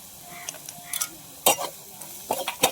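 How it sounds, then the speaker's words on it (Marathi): Chilli powder, coriander powder and garam masala sauté in hot oil in a pan, a faint sizzle under a few sharp scraping stirs and clicks of a spoon, close and without talk. "आता मी हे मस्त परतून घेतो."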